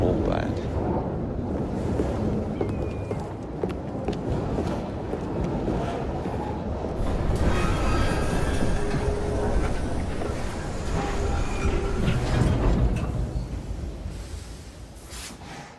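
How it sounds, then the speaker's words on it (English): A train in the game Assassin's Creed Syndicate runs with a dense, steady rumble and rattle that fills the whole stretch, easing slightly toward the end. "at least we have a train now."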